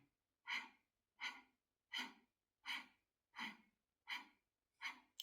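Rapid, forceful exhalations repeat in an even rhythm, about seven sharp breaths pushed out through the nose, close and quiet in between.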